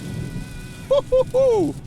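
Steady heavy rain hisses over a low rumble inside a Dodge Charger Daytona Scat Pack, with a few short tonal squeaks rising above it near the end.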